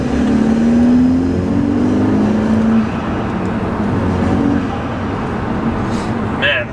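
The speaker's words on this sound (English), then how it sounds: "Man, this car sounds so good." A modified 2013 BMW F30 328i engine drones and revs from inside the cabin while driving, a loud, steady low rumble with road noise under it and a slight rise and fall in pitch.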